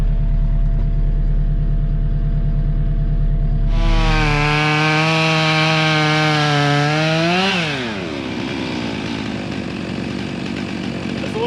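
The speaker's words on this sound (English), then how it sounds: "We're about to pull it down with the JCB." A JCB digger works at pulling down a Chinese elm tree, its engine droning loudly up close, then revving hard into a rising, straining whine before easing off.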